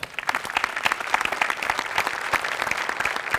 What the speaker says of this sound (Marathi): तर मराठी भाषेसाठी एकदा टाळ्या